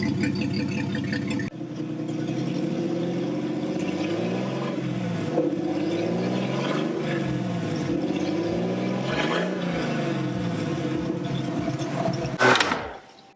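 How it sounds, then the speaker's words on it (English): An off-road Nissan 240SX with a swapped RB engine and custom side-exit exhaust idles with a deep, steady, loping rumble heard up close, ending with a brief clatter and cutoff. "Honestly, it sounds like a V8. When it's idling, it idles like a V8."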